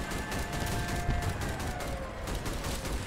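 Rapid gunfire from enemy vehicles in the vehicle combat game Crossout, a dense continuous rattle of shots mixed with engine drone, fairly loud and sustained.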